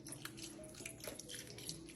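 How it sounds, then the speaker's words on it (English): Vegetable broth is poured into a pan with turkey wings, a soft close trickle and splash of liquid with a few drips, fairly quiet and without talk. "we're just gonna pour some vegetable broth in"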